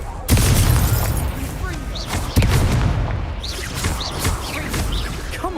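A Confringo explosion spell cast in Hogwarts Legacy, heavy close booming blasts with crackling debris, two big hits followed by rumbling and sparkling magical effects, with a voice speaking over the action.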